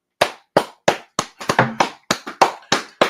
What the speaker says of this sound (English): Let's all give a clap to Husky and Scully and Prelim and Fiend.